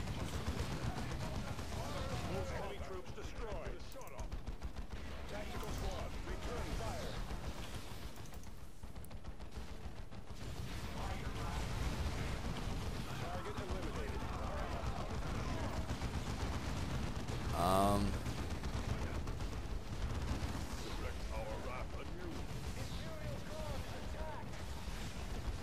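Continuous rattling gunfire and heavy artillery blasts from a Dawn of War II: Chaos Rising battle, loud and dense for the whole stretch, with voices talking over the combat.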